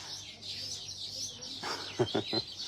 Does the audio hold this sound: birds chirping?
yes